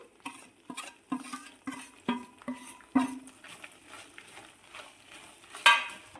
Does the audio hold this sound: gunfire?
no